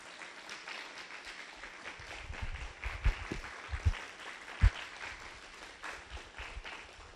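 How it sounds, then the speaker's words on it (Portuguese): A small church congregation applauds God, many hands clapping in a continuous moderate patter with a few sharper, louder claps standing out along the way. "se você estiver feliz com Deus, que você o aplaudisse nesse momento"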